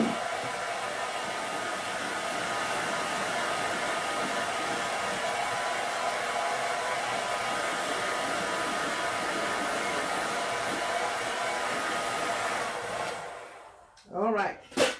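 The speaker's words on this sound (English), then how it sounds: "I'm going to use my blow dryer. And I'm going to dry it on the cool setting." A hair dryer on its cool setting blows in a steady, loud whoosh for about thirteen seconds, then cuts off. A few faint sounds follow in the quiet.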